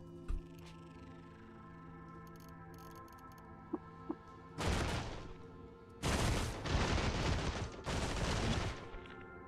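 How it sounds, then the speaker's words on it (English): Gunfire from enemies aimed at the player in the game Caves of Qud: a few faint ticks, then several loud bursts of rapid shooting in clusters over steady background music. "What is shooting me?"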